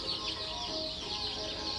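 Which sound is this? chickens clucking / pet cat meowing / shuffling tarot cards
chickens clucking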